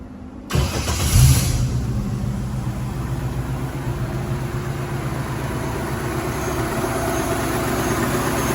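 A 1968 Chevy Camaro convertible with an electric fuel pump and Flowmaster exhaust cranks and catches after a brief silence, then settles into a steady, loud, rumbling idle with no talk.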